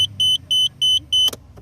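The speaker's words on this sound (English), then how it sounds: "This is the light chime." Lights-on warning chime in a Nissan Skyline R32 GT-R: four evenly spaced electronic beeps in a quick steady rhythm, loud and close inside the car, followed by a brief click and faint rustle.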